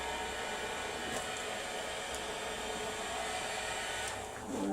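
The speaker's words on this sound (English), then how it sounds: "I'll put the heat gun back." A heat gun blows hot air in a steady, even hiss that stays near and moderately loud, broken by a few faint clicks and by no talk.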